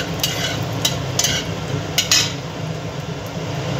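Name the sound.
whole garam masala spices frying in oil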